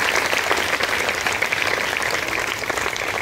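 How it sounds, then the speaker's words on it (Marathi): An audience at a Savitribai Phule birth anniversary event claps loudly and continuously, a dense, even wash of applause throughout. "त्यासाठी जोरदार टाळ्या वाजवायला."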